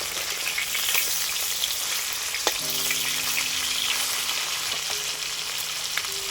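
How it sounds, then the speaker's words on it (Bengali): Koi fish sizzle steadily in hot oil, a loud continuous frying crackle with occasional sharp pops and a faint low hum running underneath throughout. "মাছগুলো ভাজা হয়ে আসছে আমি এবার উল্টাবো"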